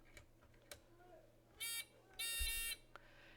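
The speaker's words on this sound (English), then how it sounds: "It's a buzzer." Two bursts of a harsh electronic buzzer, one short and one longer, sounding close in an otherwise quiet room with faint background noise.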